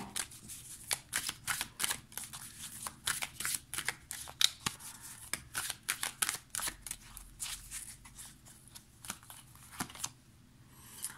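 A deck of oracle cards is shuffled and handled, and nine cards are drawn from it, making quiet, close, repeated riffling and flicking bursts with soft pauses between and no talk.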